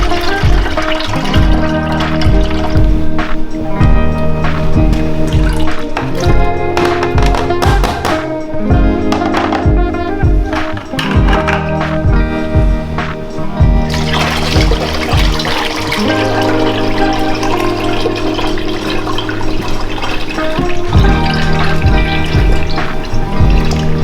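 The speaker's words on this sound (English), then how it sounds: "We're just gonna pour the liquid off" Fermented apple cider liquid pours steadily into a bucket, a loud continuous splashing gush of liquid with sloshing and dripping that runs on for many seconds, no talking.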